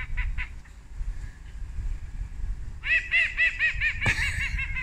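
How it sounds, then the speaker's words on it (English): Geese being chased off honk in a rapid run of loud, nearby calls, with a few scattered honks and snickering laughter before the burst. "See him chasing geese off"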